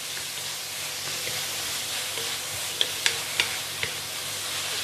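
French beans and egg fry in a wok with a broad, steady sizzling hiss, and a few light clicks of the stirring utensil come near the end.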